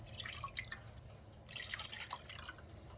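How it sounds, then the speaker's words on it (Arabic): Milk pours into a pot, two cups in all, with soft splashing and dripping trickles in two short bursts, quiet and close. "هننزل بكوبايتين من الحليب"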